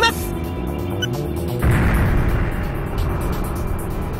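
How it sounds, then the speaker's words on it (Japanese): Artillery shells striking a ship's shields in a sci-fi space battle game, heard as a heavy booming rumble that swells into a sustained roar, loud and close, with no talk. "敵の仮想砲撃が着弾しています"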